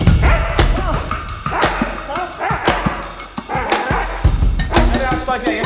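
During K9 training a dog gives short yips, barks and whimpers in bursts, close by, mixed with someone talking over it.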